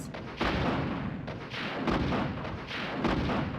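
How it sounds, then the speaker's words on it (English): Booming blasts from a rocket launcher in Resident Evil 2, several loud explosive reports in a row with a dense, rumbling body and no voices over them. "Rockets! Rocket launcher!"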